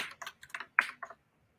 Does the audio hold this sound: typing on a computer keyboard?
yes